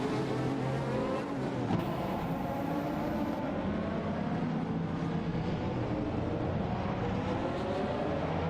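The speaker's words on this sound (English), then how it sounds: "Racing car dashing away." Race car engine in an AI racing video game, a steady loud roar speeding away with a sustained high whine throughout, no talking.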